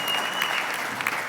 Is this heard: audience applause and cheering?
yes